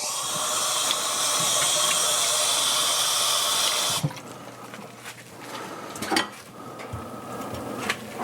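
Tap water runs steadily into a kitchen sink while a leek is washed, a loud hissing stream for about four seconds, then stops, leaving faint handling clatter.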